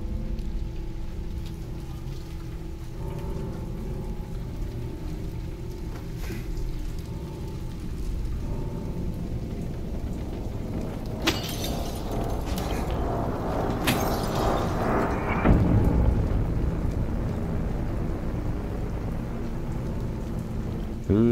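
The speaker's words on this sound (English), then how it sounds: "Thundering." Steady heavy rain hisses throughout a stormy scene in the video game Silent Hill 2, while rolling thunder swells midway and builds toward the end.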